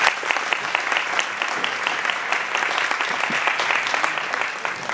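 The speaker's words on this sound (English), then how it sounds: "let's give them a big round of applause" Audience applause at a town council gathering hosted at an airport, steady sustained clapping from a crowd at close range, alone without talk.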